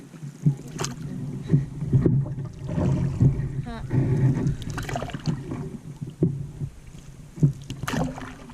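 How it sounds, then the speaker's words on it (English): A kayak or canoe paddled on the Green River gives rhythmic splashes and dips of the paddle, close and fairly loud, with light wind in the background. "Some extended paddling time."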